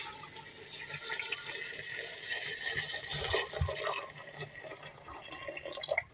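Hot water pours steadily into a pot of white beans being cooked, a continuous close splashing and filling sound with no talk.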